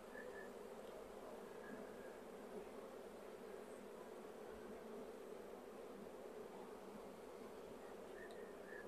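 A dense swarm of honey bees hums steadily around a hive carrying three supers, a continuous loud buzzing drone close by with no talk over it.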